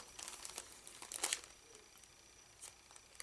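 An envelope opened by hand, faint papery crinkles and short tearing bursts in quick clusters, close but quiet.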